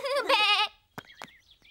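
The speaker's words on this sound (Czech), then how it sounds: "ovečka Zuzka" A cartoon sheep from Peppa Pig lets out one loud, wavering bleat, followed by a few short, thin vocal squeaks.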